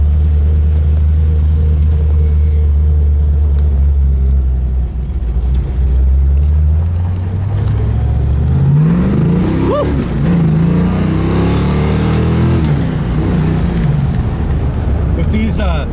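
A 1976 Plymouth Duster on street slicks accelerates hard, its engine rumbling low and loud, then swelling into a rising rev. Road noise from the car's own run sits under it, with no voices over the engine.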